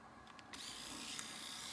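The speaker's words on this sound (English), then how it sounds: "the speed of the drill can melt the plastic" Small power drill boring a tiny pilot hole into the plastic stake pocket of a model railroad flat car, a steady whirring drone starting after a couple of brief ticks, close and fairly quiet with no talking.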